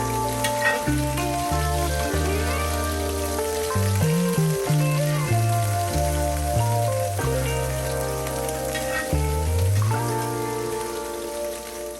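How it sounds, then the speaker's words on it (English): Minced shallots sautéing in a pan, a steady sizzle and crackle running throughout beneath louder background music. "right here I'm going in with some minced shallots. And so I'm just going to saute those a little bit"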